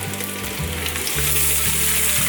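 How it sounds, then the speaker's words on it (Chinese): Steamed sausages fry in a little hot oil in a wok, giving a loud, continuous close-up sizzle with a low background hum and no voices. "锅内放入少许油，油热了之后，放入香肠进来煎。"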